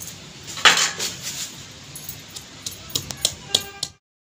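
Ginger, garlic and green chili pounded for a masala in a home kitchen, heard as a run of sharp metallic clinks and knocks, loud at first and then scattered, with a few brisk strikes near the end.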